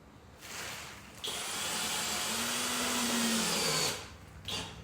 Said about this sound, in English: So I'm just gonna take some screws all the way up this stud.